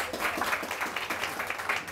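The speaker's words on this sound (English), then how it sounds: "can we please have a round of applause for Ellen Fanning and Fiona Higgins" Audience applause at a book launch event, a steady dense wash of clapping from a crowd indoors, sustained evenly throughout without a break.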